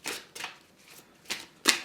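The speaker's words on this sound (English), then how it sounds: "Okay, I'll give them a shuffle and then you pick." Angel Therapy Oracle cards are riffled in four or five quick, crisp bursts, close and clear, with brief pauses between each shuffle.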